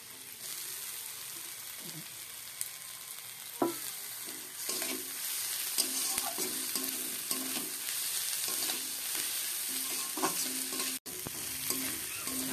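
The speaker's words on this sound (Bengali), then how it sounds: "পেঁয়াজগুলোকে তেলের মধ্যে ভালো করে ভেজে নেব" Onions, green chili and garlic paste fry in oil with a constant close sizzle, overlaid by repeated scraping stirs and occasional sharp clinks of a spatula against the pan.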